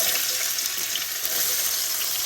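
Onions frying in hot oil with cumin in a pot, a steady, bright, hissing sizzle that stays loud and even throughout, with no talking.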